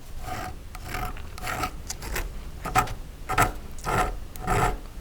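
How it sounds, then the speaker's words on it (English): A needle file passed lightly back and forth over excess solder on a metal bangle bracelet, about eight rhythmic rasping strokes, close and clear with no talk. "just lightly take the file and pass it across"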